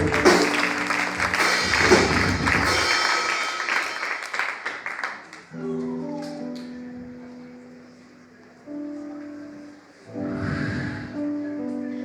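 A church congregation claps for Jesus Christ in bursts of dense applause, mixed with sustained keyboard or organ tones that continue between the clapping waves at close range.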